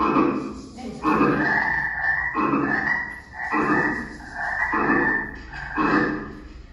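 A frog croaks in a repeated series of loud, rhythmic calls about once a second, close and clear with no voices.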